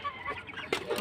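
Backyard chickens kept in a small home pen cluck briefly, a couple of short, close squawky calls heard alone.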